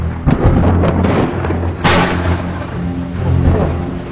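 Thunder rolls through a thunderstorm in Tornado Alley, with a sharp crack near the start and a stronger clap a little later that fades into a long, low rumble.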